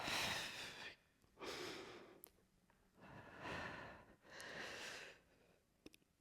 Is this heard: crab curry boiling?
no